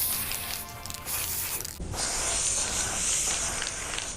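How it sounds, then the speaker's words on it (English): A long continuous spray of aerosol hair color hisses close by, steady and bright, following a shorter rustling burst at the start. "to spray this all over my head"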